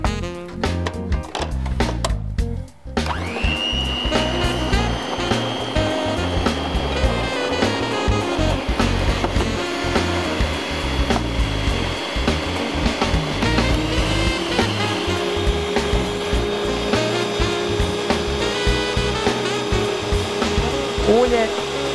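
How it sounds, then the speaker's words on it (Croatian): Eggs whisked with sugar by an electric mixer for baking an apple-walnut baklava, a steady loud motor whir running nearly throughout after a few clattering starts. "Prvo ćemo izmučkati jaja zajedno sa šećerom"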